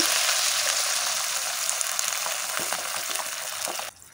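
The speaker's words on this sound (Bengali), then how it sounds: "লবণ দিয়ে একটু জল দিয়ে দেব" Water is poured into a hot pan of fish curry with drumstick and salt, a loud, steady rushing hiss and sizzle that runs for several seconds before dropping off abruptly at the end.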